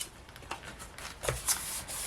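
Scissors trimming the corners of paper for a handmade scrapbook box album, giving a few quiet, close snips and papery rustles in quick succession.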